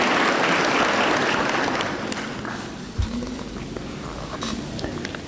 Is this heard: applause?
yes